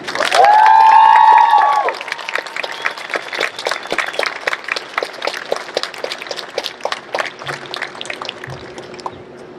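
Audience applause for middle school honor graduates at a graduation ceremony, steady clapping filling the hall after a voice at the start.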